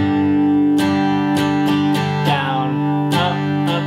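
A guitar plays a basic strumming pattern of down and up strokes, with seven distinct strums ringing over sustained chords at an uneven, moderately slow rhythm. The playing is close and fairly loud, with no talk.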